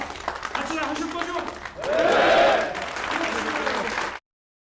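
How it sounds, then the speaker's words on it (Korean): A crowd applauds President Yoon at his first day at the presidential office, a dense burst of clapping that swells in the middle, with talk running over it before it cuts off. "이렇게 윤 대통령 박수를 받고"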